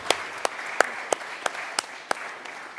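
Sparse clapping follows presentations at a conference session on investigative journalism and water integrity, a handful of distinct, sharp claps spaced about a third of a second apart over a quiet room murmur.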